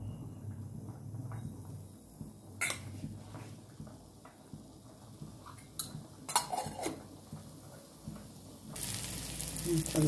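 Onion, garlic and ginger fry in oil with a low steady sizzle, punctuated by clinking utensils and pan knocks close by, and a louder burst of frying near the end.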